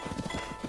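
Horse hooves clopping in the video game Zelda Breath of the Wild, a quick run of muffled low thuds in a brief burst over a steady background tone.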